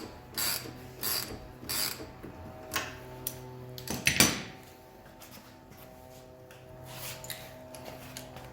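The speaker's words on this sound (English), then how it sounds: "Then I got the socket wrench here." A socket wrench ratchets loose a bolt on a Nissan Sentra, a close run of sharp clicking bursts in short rhythmic strokes with a louder clank midway, then quieter mechanical ticks.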